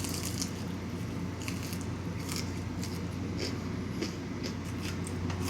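Crispy chicken fritters crunch under repeated bites, a string of sharp crackling snaps spread over several seconds against a steady low background hum, close and fairly quiet, with no voices.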